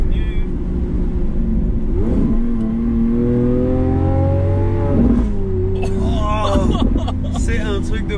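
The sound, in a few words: Lamborghini sports car engine accelerating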